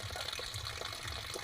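Water running steadily from a tap, a close, continuous splashing gush with no pauses and no voices.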